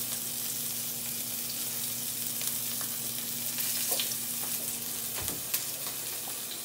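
Scallops seasoned with salt and pepper sear in a hot pan, a steady close sizzle with faint crackles and small pops throughout, no voices.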